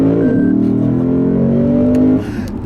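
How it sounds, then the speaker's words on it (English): A Lexus GS F accelerates hard, its engine note climbing in a loud, smooth sustained pull before cutting off abruptly near the end, with no voices over it. "I'm going to leave you with a nice little acceleration here in the GSF"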